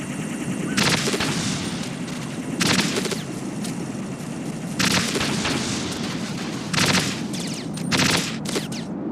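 Gunfire in the stealth game Metal Gear Solid 2 rings out as five loud, separate bursts of shots spaced about two seconds apart, each sharp and booming over a constant low background hum.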